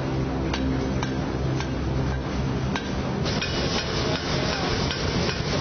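A hammer strikes metal in sharp, evenly spaced clanks, about one per second, close and loud over a steady background of outdoor noise.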